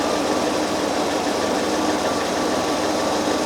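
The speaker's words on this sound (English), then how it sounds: "I can hear that the engine is missing one." A Citroen XM 3.0 24V engine idles with one cylinder, number 6, not firing, a steady close drone with an uneven underlying beat, with no speech.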